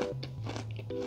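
A bite into a large, crispy fried chicken drumstick gives a close, sharp crunch followed by brief crackling chews, heard alone without talk.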